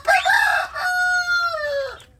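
A kampung chicken crows loudly and close by in the grower pen, one long drawn-out cock-a-doodle-doo that rises, holds and falls away, with a few clucks at the start.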